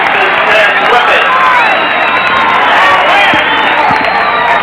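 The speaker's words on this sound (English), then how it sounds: "Listen to the crowd." A football crowd at a high school game roars and cheers after a turnover by the Whitewater Whippets, a loud, sustained wash of voices and shouts filling the space.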